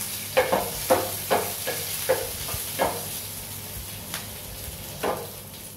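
Curry leaves, green chili, ginger and raisins sautéing in hot oil in a pan for curd semiya tempering; a quiet steady sizzle with repeated soft scrapes of stirring, close and without talk.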